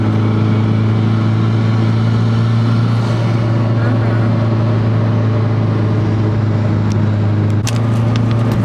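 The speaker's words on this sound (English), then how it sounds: "The car makes all the whooshy noises." A Mitsubishi Lancer Evo 9 engine drones steadily with a constant low hum and road whoosh, heard from inside the moving car.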